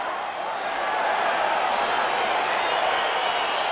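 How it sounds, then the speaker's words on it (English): An arena crowd roars steadily in the UFC 4 video game as a fight gets underway, a loud, even wash of cheering noise without breaks. "crowd getting excited as this fight gets underway"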